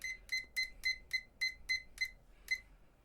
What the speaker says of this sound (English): I'm going to get you 10 minutes on the timer.